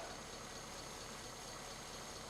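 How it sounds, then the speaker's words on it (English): The flathead engine of a 1939 Ford truck, fitted with a full exhaust and muffler, runs steadily as an even, faint broadband rumble with no talk. "I don't think I've ever got a flathead running, or anything for that matter, with full exhaust like this"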